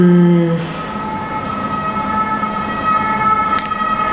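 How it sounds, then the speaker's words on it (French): A loud wailing fire engine siren fades after the first half-second, leaving a sustained tonal hum and low rumble, with a short bright burst near the end. "Les sirènes de pompiers."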